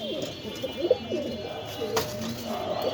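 A pair of pigeons at a pigeon farm coo repeatedly and close by, with soft rising and falling calls in an irregular rhythm over faint background noise.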